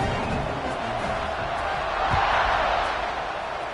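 Stadium crowd noise from a college football video game (NCAA 26) rolls on as a steady, broad roar after a score, swelling slightly midway, with no talk.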